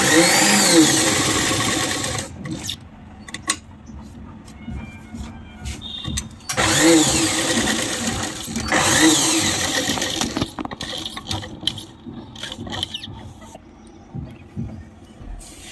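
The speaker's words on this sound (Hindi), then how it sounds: "फिर ऐसे रखेंगे और सिलाई शुरू करेंगे।" A sewing machine stitches fabric with a zigzag stitch, running in loud, close, whirring bursts separated by short stops and clicks, with no talking.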